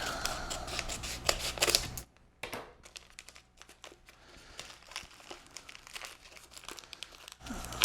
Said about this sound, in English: we're going to open up the seasoning packet. And just so I can show you this, if you cut here,